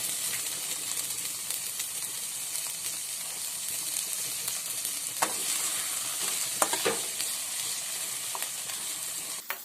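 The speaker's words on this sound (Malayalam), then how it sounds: "ഇനി നമുക്കിതിലേക്ക് തക്കാളി ഇട്ട് കൊടുക്കാം." Tomatoes frying and being stirred in a pan while making macaroni masala, a steady close sizzle with occasional scraping stirs and light clinks throughout, no voices.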